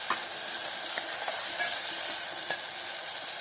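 Spice masala roasting in a pan for masale bhat, a steady close hiss of sizzling with occasional light clicks of stirring, even and moderately quiet with no voices.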